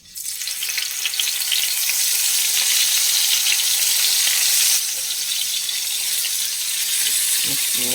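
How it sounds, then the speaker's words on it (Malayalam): Masala-coated brinjal slices frying in hot coconut oil give a loud, steady, dense sizzle that holds unbroken, easing slightly past the midpoint, with a couple of soft utensil clicks near the end. "നമുക്ക് വഴുതനങ്ങ മസാല പുരട്ടി വെച്ചതൊക്കെ ഒന്ന് വറുത്തെടുക്കാം."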